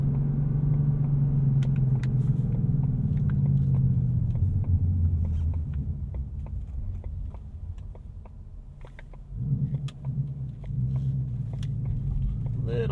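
A 2018 Ford Mustang GT Premium with the Performance Pack rumbles from inside the cabin while driving, a steady low engine drone that dips slightly, then swells again near the end as the throttle opens.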